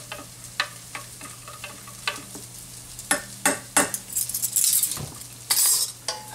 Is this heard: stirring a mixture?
yes